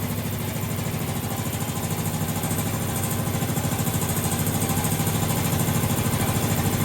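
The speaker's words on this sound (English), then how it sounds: "Sounds like an air compressor, sir." An air compressor runs steadily after being powered on, giving a loud, continuous mechanical drone with a rapid chugging pulse that holds for the whole stretch, with no talking.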